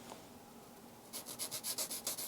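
A pencil rubs a line onto wood while a half-lap joint is marked out for a DIY workbench, a quick series of close, soft scratchy strokes after a brief quiet pause.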